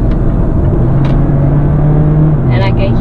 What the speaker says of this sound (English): And I can hear my engine.